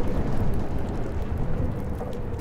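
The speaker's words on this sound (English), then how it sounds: "More storms." Steady storm from the Life is Strange video game, with dense rain hissing continuously and a low rumble of thunder rolling underneath, loud and unbroken throughout.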